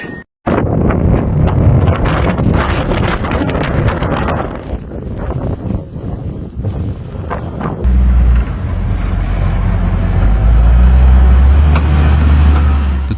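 Strong wind gusts roar across the microphone during a heavy wet snowstorm in Saskatchewan, a loud continuous buffeting rush that shifts partway through into deeper, rumbling low-end gusting.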